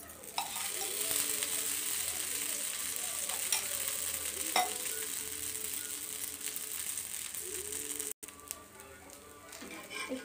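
Dosa batter made with curry leaves and betel leaves crackles and sizzles steadily in oil on a hot pan, a continuous close frying hiss with light scraping taps and a brief dropout near the end.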